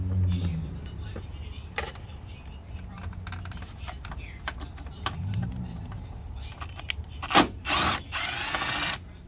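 A ratchet clicks and whirs as a bolt is worked loose on a 2013 Audi A6 supercharged V6 engine in a garage, with close metallic ticking, clunks and a louder rattling burst near the end.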